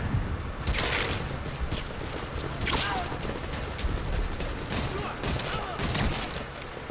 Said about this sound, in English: They are taking fire, guys.